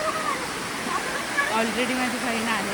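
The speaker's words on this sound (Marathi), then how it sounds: "इथे खूप पाणी वाहतं." Lots of water rushing along a village stream in the rainy season, a constant broadband roar close by, with a person speaking faintly over it.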